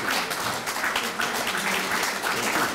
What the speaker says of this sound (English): So I think we should give a big applause to Pierre DELERIVE